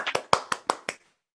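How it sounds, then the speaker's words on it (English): Six quick, evenly spaced hand claps ring out close and crisp, ending abruptly in silence, as a small show of applause for comedian Peter Heinz. "let's clap for Peter Heinz"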